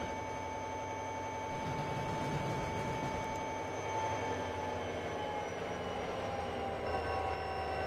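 Boxcar coupling to a locomotive in the train simulator Trainz 12, heard as a steady, loud rolling rumble of rail wheels with faint squeal tones, continuous throughout with no talk.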